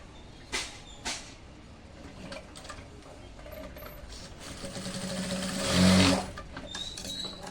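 Sewing machine stitching a fabric strip, a low, fairly quiet whir building toward the end, with a couple of soft knocks near the start.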